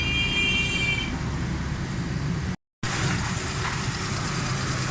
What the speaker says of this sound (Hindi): गाड़ी स्टार्ट है, बिल्कुल ज़बरदस्त सून है, किसी किस्म की वाइब्रेट नहीं।